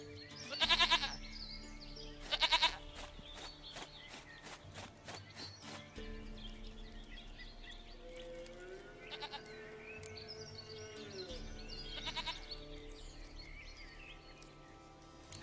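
A goat in The Witcher bleats twice, loud and close, then a few fainter bleats follow among soft hoof clops and farmyard ambience.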